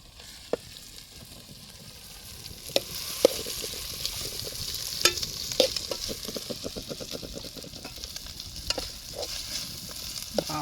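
Mutton blood fried with tomatoes and home-made masala in a pan, a steady close sizzle with irregular scraping stir strokes and occasional clinks building slightly louder toward the end, no talking.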